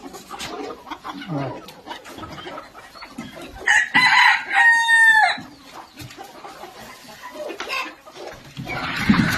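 Native village hens and a rooster kept on a farm cluck scattered around a person talking, then a rooster crows clearly near the middle before the clucking and talk resume.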